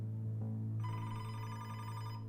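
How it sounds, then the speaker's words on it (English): A telephone rings once as a sound effect within spoken narration, a steady electronic ringing tone that swells after a brief lower onset, clear and alone without voices. "when his phone rang"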